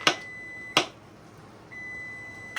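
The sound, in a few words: kitchen timer beeping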